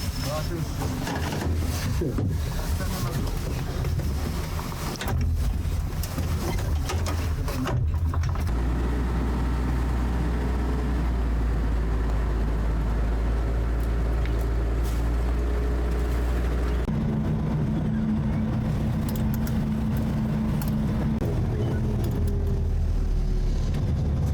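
A BTR-3DA armored personnel carrier engine runs throughout with a loud, steady low rumble that shifts slightly in pitch partway through. Voices talk over the drone.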